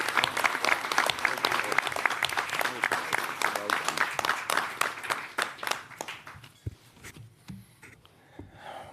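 An audience at a mayor's announcement on the opioid epidemic gives a warm round of clapping, dense and fairly near at first, then thinning into scattered claps as it fades out.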